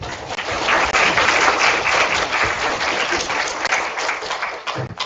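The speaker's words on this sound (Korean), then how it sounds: "다시 한번 장보러 교수님께 큰 박수" A lecture audience at a university AI talk gives a burst of applause after a professor's presentation, loud continuous clapping that thins and tapers near the end.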